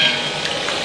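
Cashews, ginger and garlic frying in hot oil in a pan, giving a steady, close, fairly loud sizzle with no break.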